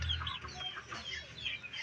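A hen clucking softly in a short series of low, throaty calls, close by and fairly quiet.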